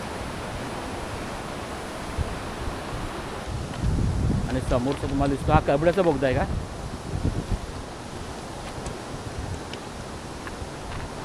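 Ranpat waterfall in Ratnagiri, Konkan, during the monsoon: a steady broadband rush of falling water runs the whole time, with someone talking loudly over it in the middle.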